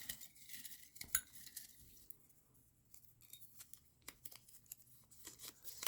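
A small bowl with a lid is shaken for a prize giveaway drawing, giving faint, scattered light clicks and rattles of its contents in irregular bursts.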